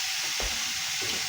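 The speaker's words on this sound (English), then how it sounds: "And there it is, sizzling away." Raw chicken kebab sizzling on a griddle pan, a close, steady hiss and crackle of frying that continues unbroken.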